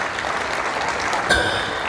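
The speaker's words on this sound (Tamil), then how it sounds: "எல்லாரும் ஒரு கைத்தட்டல் கொடுத்துடலாம்." A storytelling event audience claps together, a steady, dense wash of applause that holds evenly from start to end.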